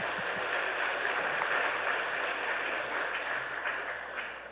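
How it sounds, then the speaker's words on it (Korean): A church congregation welcomes a newly registered member during a Sunday service with soft, steady applause. The sound is a faint, diffuse wash of clapping that carries through the hall and slowly fades. "예, 박수로 환영해 주시기 바랍니다"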